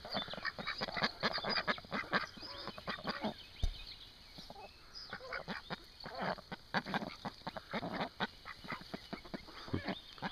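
Chickens in their own outdoor yard give a steady run of clucks and calls, some close and fairly loud, others fainter, with a brief lull near the middle.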